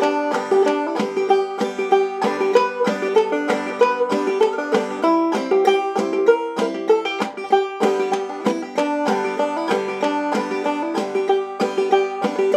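Solo clawhammer banjo plays the higher break of a tune, a dense, continuous run of bright plucked notes in driving rhythm, heard up close with no talking.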